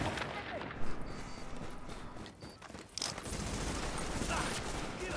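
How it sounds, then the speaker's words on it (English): Rapid automatic gunfire from an upgraded turret in The Division 2, a dense continuous fusillade with loud bursts, heard over ongoing game combat noise and voices. "Oh, I forgot I upgraded my turret."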